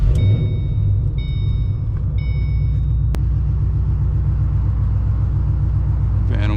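Loud, deep rumble of a straight-piped 2006 Mustang GT cruising, a steady low throb running throughout with brief higher tones and a faint voice or two underneath.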